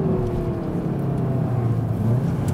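A 300-horsepower all-wheel-drive Seat Leon Cupra R ST estate pulling hard out of a corner, its engine a steady rising drone heard from inside the car over road noise.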